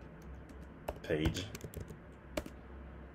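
Someone types an Angular CLI generate-component command on a computer keyboard, giving scattered key clicks under someone speaking French.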